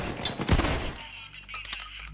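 Shotgun blasts of buckshot ammo in Payday 2: a sharp close shot followed by rapid bursts of further gunfire, fairly quiet overall with a low rumble underneath.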